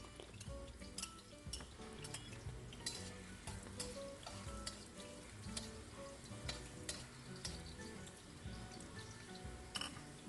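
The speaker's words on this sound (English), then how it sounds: "So in a pan, I saute some garlic." Garlic sautéing in a pan for Visayan balbacua, a steady close sizzle and frying crackle with stirring scrapes and light clinks of utensil on pan throughout, no voices.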